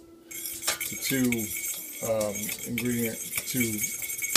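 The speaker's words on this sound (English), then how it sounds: "And so I'm just blending this up, getting it all mixed together here with a fork." A metal fork stirring a salt and black pepper spice rub for a Wagyu brisket in a dish: close scraping and clinking broken by several squeaky, sliding tones, with no voices.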